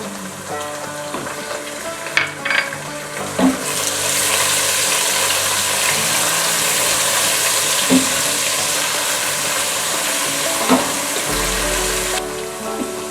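Ginger garlic paste sizzles with onions in a hot pan, a loud steady frying hiss with occasional clinks and stirring scrapes.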